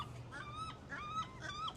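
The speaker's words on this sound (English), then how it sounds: "We got another seagull back up here." A seagull calls outdoors, a series of repeated honking, slightly drawn-out cries at a steady rhythm, moderately close over a low background rumble.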